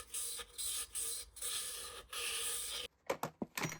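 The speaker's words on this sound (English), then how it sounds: "used some penetrating fluid on some very fine wet and dry" Very fine wet-and-dry sandpaper with penetrating fluid rubbing corrosion off a ZX7R motorcycle frame, a steady rasping scrub in repeated strokes with brief pauses, then a few short sharp scrapes at the end.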